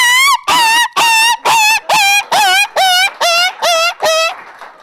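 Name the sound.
voice imitating an injured dog crying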